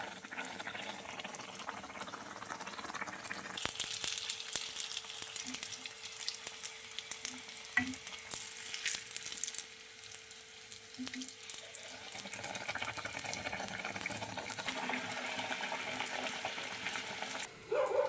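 Mangalore buns fry in hot oil, a soft steady bubbling sizzle with scattered clinks and a few bursts of louder crackle, no speech heard.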